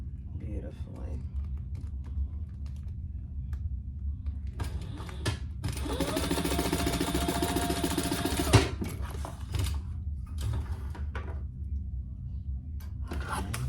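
A sewing machine stitching a clear vinyl cosmetic pouch, a fast, even whirring run of several seconds in the middle, with quieter stops and handling before and after and a voice speaking around it.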